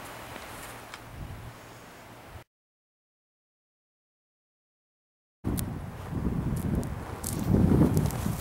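Wind blowing outdoors over snow while a small fire is being lit, gusting and buffeting the microphone in two bursts separated by a silent gap, louder and rougher toward the end.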